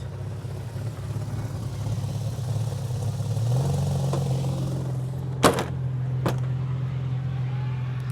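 A drift car's engine cranks and catches, then settles into a steady, close idle with a rise in pitch partway through, followed by two sharp clanking knocks near the end, no voices.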